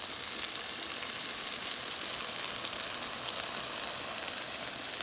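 Aubergine (brinjal) bhajee curry bubbling and frying in a pan, a dense, continuous close sizzle that holds steady throughout with no voices.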